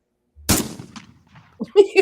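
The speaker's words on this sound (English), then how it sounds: "See a gunshot." Gunshot sound effect played from a phone app: one sharp, loud crack with a short decaying tail, followed by brief voices.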